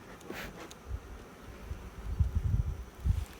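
Bees buzzing around an open long hive during an inspection, a low droning hum that swells in bursts as insects fly close, with faint rustling of comb and handling.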